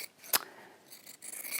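Scissors cutting through fabric for bias binding, one sharp close snip followed by softer rasping blade strokes and a brief second cut near the end, with no talk.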